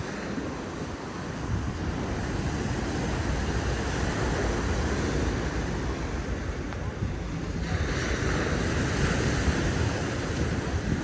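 Steady roar of sea surf at Konyaaltı Beach, Turkey, after a storm and heavy rain, with gusting wind buffeting the microphone, continuous and loud throughout.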